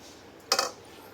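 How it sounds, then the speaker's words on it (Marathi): A metal tumbler scrapes and clinks against a metal sieve set over a pot while pushing through puran, a sweet lentil filling, giving a brief cluster of light metallic taps against a quiet background. "हे फुलपात्र आहे, तर याच्याने हलवून घ्यायचं छानपैकी"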